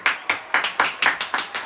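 Steady hand claps, about seven in quick even rhythm, close and crisp, with no voices.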